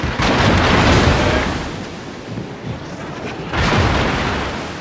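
A torpedo strikes a ship in the World of Warships naval battle game, setting off a loud, sustained roaring blast that fades slightly and then swells again into a second heavy rumble.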